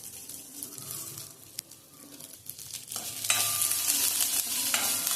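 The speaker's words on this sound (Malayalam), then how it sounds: "ഉലുവയൊക്കെ ഒന്ന് മൂത്ത് കിട്ടണം." Fenugreek seeds and curry leaves frying in hot oil in a pan, a steady sizzle with stirring that grows louder and brighter partway through, for a Coimbatore-style brinjal tamarind curry.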